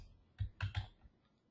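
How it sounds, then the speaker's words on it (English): A few quick keystrokes on a computer keyboard, three close clicks in a short burst with a fainter tap after, quiet and close with no talking. "and you start typing in"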